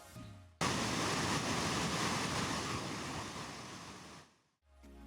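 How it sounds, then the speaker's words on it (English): A powerful glacier-fed waterfall in Jasper roars with rushing water, a dense, continuous wash of noise that starts abruptly and fades away near the end. "The waterfall is fed by the Athabasca Glacier."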